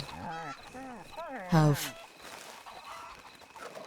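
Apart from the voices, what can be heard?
chickens panicking in Red Dead Redemption 2 video game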